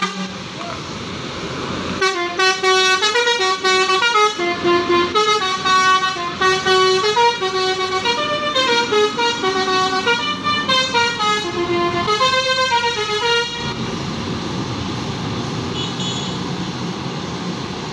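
An intercity bus about to depart sounds a long, melodic multi-tone horn tune for about twelve seconds over a steady idling engine hum, after which the engine keeps droning alone.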